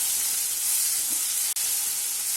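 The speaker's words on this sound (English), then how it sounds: "This is 1 large onion. Cook this till it gets a light color on it." One large chopped onion frying in a pan, a loud, steady hiss and sizzle that holds throughout, with no speech.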